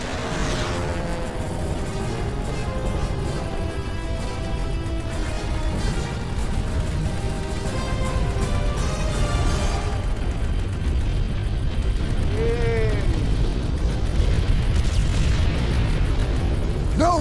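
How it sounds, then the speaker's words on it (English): Incoming artillery shells pound the ground in Call of Duty: World at War, with loud, continuous rumbling explosions and booms over a long stretch of battle noise. "We got incoming artillery to soften them up."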